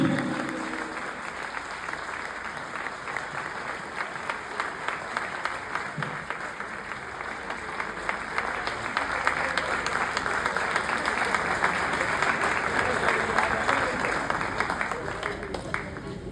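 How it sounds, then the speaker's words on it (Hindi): An audience at a Hindi-Urdu poetry recital gives sustained, loud applause that swells steadily and carries on throughout. "एक बार जोरदार तालियों के साथ"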